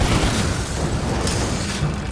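A grenade blast in the snowy shooter Lost Planet: Extreme Condition rumbles loud and broad, a dense booming roar that fades slowly over a couple of seconds without talk.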